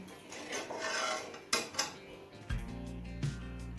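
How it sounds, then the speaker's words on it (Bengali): A spoon stirs cooked peas pulao in a pot, with soft scraping and rubbing, a couple of sharp clinks against the pot's side, and a low hum in the background. "এখন হালকা হাতে একটু নেড়ে নেবো"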